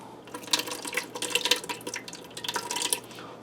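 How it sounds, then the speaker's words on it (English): Sauce poured into a Ninja Speedi pan makes a close, light liquid splash with bubbly drips and small glugs in irregular bursts, all fairly soft and without any talk. "in my Ninja Speedy, I'm going to start by dumping a little bit of sauce."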